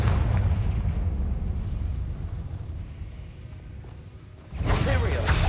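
A Confringo blasting curse goes off in the Hogwarts Legacy video game: a low rumbling hum gives way to a sudden loud explosive burst near the end.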